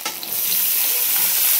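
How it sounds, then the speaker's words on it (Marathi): Chopped onion hits hot oil in a pan with garlic and coriander, bursting into a loud, steady sizzle that stays dense and even throughout. "आणि आता कांदा टाकते."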